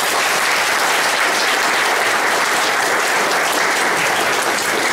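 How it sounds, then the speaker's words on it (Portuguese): Sustained, dense applause from a lecture audience at the close of a talk on death, steady and loud throughout with no gaps or voices. "Pedimos novamente uma salva de palmas."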